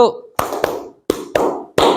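A group clapping in unison on a spoken cue during an ice-breaking exercise at an academic supervision session, several loud, sharp claps in separate bursts with short echoing tails and brief voice between them.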